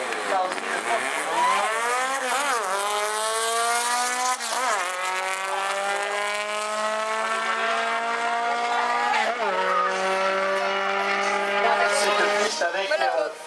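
A loud 1970s American drag racing car engine revving hard, its pitch climbing repeatedly through gear changes, close and continuous with a rough, high whine.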